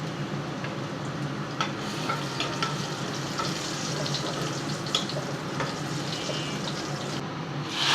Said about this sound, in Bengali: ডালে দেওয়ার জন্য রসুন আর পেঁয়াজ আমি বাগার দিয়ে নিচ্ছি।